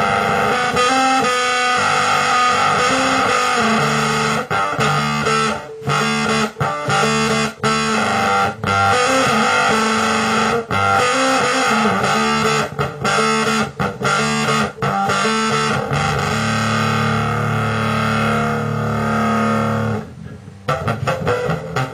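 A bass guitar through an MXR Blowtorch bass fuzz pedal plays a loud, fuzzy, saturated riff with thick buzzing overtones, notes chopped by brief gaps, continuing steadily.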